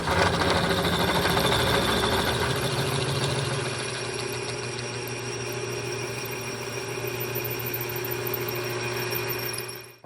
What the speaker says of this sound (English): Working on boring out a spacer block to go between the engine and that larger bracket for the power steering pump.